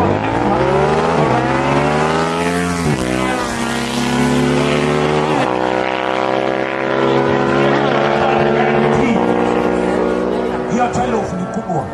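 Superbikes, including a Kawasaki H2, launch at a drag race in Kiganjo, engines screaming loud and close with repeated rising gear-change sweeps, while a commentator talks over them.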